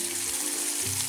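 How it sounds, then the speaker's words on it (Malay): Marinated prawns go into hot oil and set off a brief burst of bright sizzling, close and fairly loud, with a low steady hum underneath. "Kita panaskan minyak dulu dan masukkan udang."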